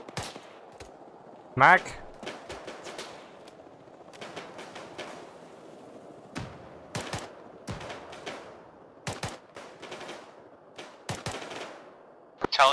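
Gunfire in the military shooter ARMA 3, scattered sharp shots and short bursts at varying distances, some close and loud, others fainter, mixed with brief radio-style voice calls.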